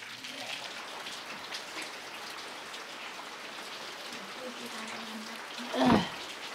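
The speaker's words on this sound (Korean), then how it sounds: "비가 옵니다. 젊은 시절엔 한가로 저 빗소리가 좋았죠." Steady rain falls throughout, a dense hiss of drops with a brief louder gush near the end.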